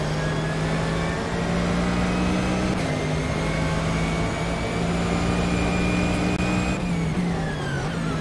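Mercedes AMG GT3 engine in rFactor 2 at the old Hockenheim 1966 short track, racing GT3 series: a loud, steady racing drone under full throttle, pitch holding high with brief dips at gear shifts.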